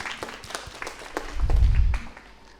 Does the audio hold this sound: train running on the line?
no